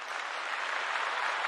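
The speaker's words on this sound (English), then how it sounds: "There's my applause" A canned applause sound effect plays inside a StreamYard live stream, a brief, quiet, even burst of clapping crowd noise heard on its own.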